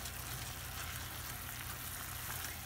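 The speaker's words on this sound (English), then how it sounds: "we're going to go ahead and get the onions softened up" Onions and Hatch chilies sizzle steadily in a hot pan, a dense, even frying hiss that holds without a break and with no voices.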